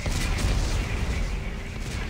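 Explosives detonate in the sci-fi horror game Dead Space 3, a dense, continuous roar of blast rumble and crackling debris that stays loud for about two seconds.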